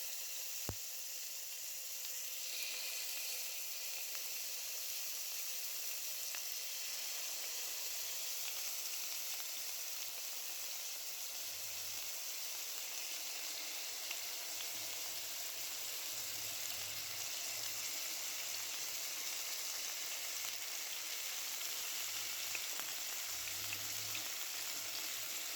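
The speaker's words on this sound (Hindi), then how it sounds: "ये यहाँ पे फ्राई होने लगे हैं" Pieces of chicken tikka sizzle in hot oil in a pan, a steady bright hiss that runs unbroken and fairly quiet, with faint low bumps now and then.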